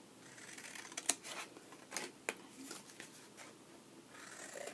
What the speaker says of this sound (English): So you cut those corners.